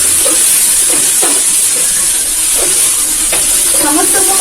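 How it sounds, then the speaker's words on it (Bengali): Sugar being stirred into a ridge gourd and potato curry in a hot pan makes a loud, constant sizzle, with repeated scraping strokes of a spoon through the mixture every second or so. "এবার চিনিটাকে আমি ভালো করে মিশিয়ে নিচ্ছি।"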